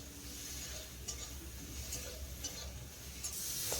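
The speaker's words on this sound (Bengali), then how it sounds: "এইভাবে ভেন্ডিটাকে 2 মিনিট ভেজে নেব" Okra seasoned with salt and turmeric fries quietly in a pan, giving a soft, steady sizzle with a few faint scrapes of stirring, close but low in level.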